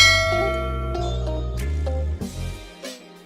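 A bright bell-like notification ding rings out with a sustained, shimmering decay lasting a few seconds, clear and alone with no talking.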